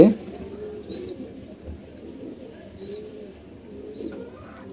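Domestic pigeons at a home loft coo softly and steadily at close range, with brief brighter chirps and bird calls breaking through in short bursts throughout.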